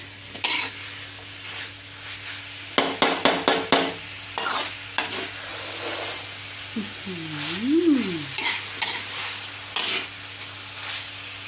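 Chicken stir-fried with red curry paste and beans in a pan, a low sizzle broken by quick clattering spatula strikes against the pan and scraping stirs, with a brief voice-like tonal sound and background hum.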